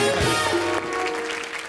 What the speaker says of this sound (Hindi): शाहरुख भाई के लिए जोरदार तालियां